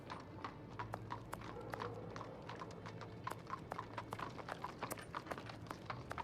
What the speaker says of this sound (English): Am I gonna get run over by a horse?